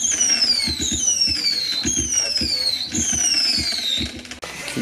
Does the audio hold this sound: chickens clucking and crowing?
no